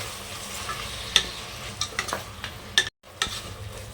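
Tomatoes frying with onions in a pan: a soft sizzle under several sharp scrapes and clinks of a spoon stirring, with a brief dropout near the end.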